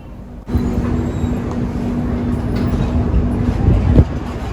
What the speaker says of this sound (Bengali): একদম রাইট টাইমে কিন্তু ট্রেন ছেড়ে দিয়েছে